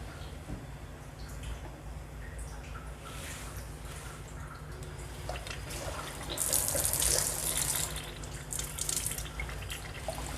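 Water runs steadily from a Kangen water ionizer machine, a soft continuous faucet-like flow that swells slightly louder partway through, with no talking.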